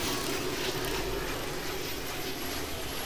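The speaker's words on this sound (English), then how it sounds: "the helicopter made that sound when I did that." A steady, droning helicopter engine hum in a video game fills the whole stretch, broadband and constant with no talking, as if heard from inside.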